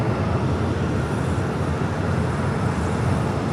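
An American Airlines A321neo airliner arrives at LAX on its flight in from Miami, and its engines make a loud, steady broadband roar that holds level throughout with no voices.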